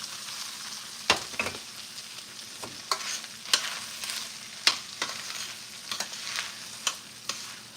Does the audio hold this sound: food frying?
yes